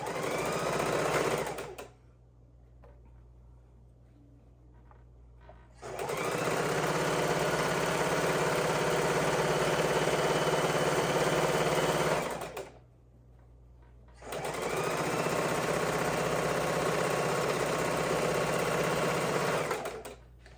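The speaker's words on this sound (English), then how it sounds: "And then we'll get our rows sewn together." Sewing machine stitching quilt rows together, running in two long steady bursts of about four and six seconds with brief quiet pauses between, close and continuous.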